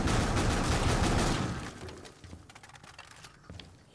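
Gunfire from the game Tom Clancy's Rainbow Six Siege on PS4: a dense, loud burst of rapid shots in the first second and a half, then scattered fainter cracks and impacts.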